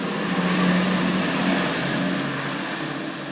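A truck rumbles past on a road, a broad steady engine noise that swells slightly and then eases as it moves by, moderately close, with no talking.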